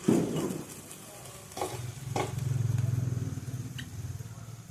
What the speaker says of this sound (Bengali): এবার আমি ওর মধ্যে যে টক দইয়ের সঙ্গে মশলাগুলো মেশানো ছিল আমি ওগুলো দিয়ে দিলাম